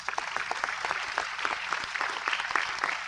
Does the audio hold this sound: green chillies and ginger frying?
no